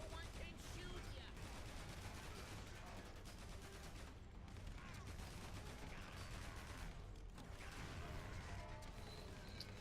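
Chaotic video game gunfire from Guns, Gore and Cannoli 2, dense rapid shots and bursts layered with crashes, continuous and loud throughout, with voices mixed in.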